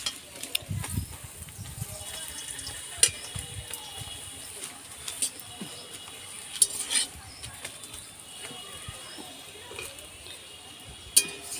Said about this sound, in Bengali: এইভাবে আমি সব পরোটাগুলো ভেজে নেব